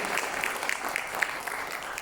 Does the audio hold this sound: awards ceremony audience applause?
yes